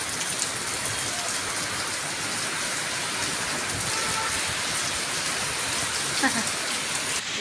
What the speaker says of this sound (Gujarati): તો વરસાદ